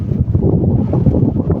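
Strong wind buffets the microphone on a mountain peak in Baybay City, Leyte, a continuous loud low rumble with no voices.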